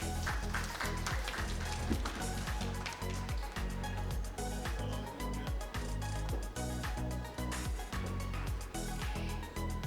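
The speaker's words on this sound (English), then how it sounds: "Let's have a big round of applause" Audience applause greets a shield presentation to a doctor at a conference award session, but it sits low and mostly buried under loud, continuous music with a steady beat.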